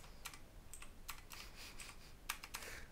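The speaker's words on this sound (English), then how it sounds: "I need a not mechanical keyboard." Someone types rapidly on a mechanical computer keyboard, producing faint, sharp clicks in quick irregular bursts over a low steady hiss.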